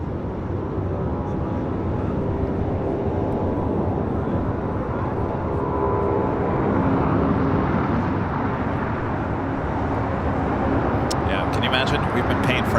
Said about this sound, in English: This is Allegiant Air, flight 1600, coming in from Provo, Utah on an A320.